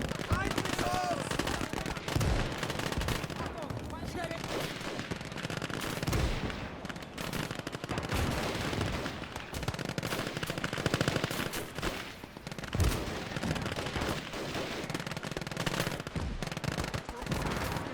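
Sustained gunfire in a video game battle between Japanese and German troops, with dense overlapping machine-gun bursts and heavy thuds of cannon and mortar fire, loud and continuous throughout with no pauses.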